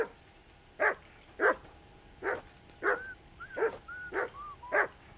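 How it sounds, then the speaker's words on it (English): A dog barks repeatedly in Kingdom Come 2, about eight evenly spaced, mid-loud barks over a low steady game background hum. "Call that dog to heel."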